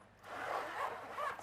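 A zipper slides along a small pocket on a handbag's clear plastic panel, a soft ripping run of teeth that rises and falls in a few quick pulls over a quiet room, with no talk.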